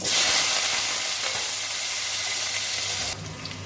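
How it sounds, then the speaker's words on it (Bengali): A single potato frying in hot oil gives a steady, loud sizzle that eases slightly midway and drops sharply near the end, with no voices. "একটা আলু নিয়ে নিয়েছি ভেজে নেবো"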